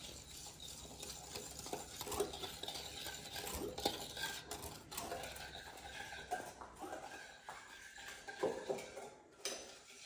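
Sugar being mixed into olive oil in a bowl for chocolate cake batter, heard as faint, close scraping and clinking of a spoon or whisk against the bowl in uneven bursts.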